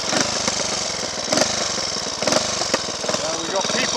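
A Triumph Tiger Cub trials motorcycle engine, unused for years, runs with its cover off, a close, steady mid-pitched mechanical chatter with periodic louder pulses, and speech faintly mixed in.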